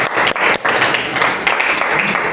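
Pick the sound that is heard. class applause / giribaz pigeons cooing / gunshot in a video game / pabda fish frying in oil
class applause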